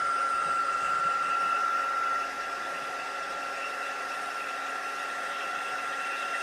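A heat gun used for heat embossing on a craft card, blowing with a steady whirring hiss and a fixed motor whine, close and even, dropping slightly in level partway through, with no talk.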